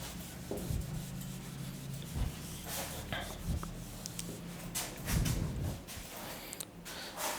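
Chalk is being rubbed off a classroom board, a steady scratchy rubbing with a few short scraping bursts, close and moderately loud, with no talk during it.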